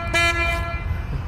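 A loud, brief horn blast sounds in a fishing video game, a single toot fading after about half a second over a low rumbling background.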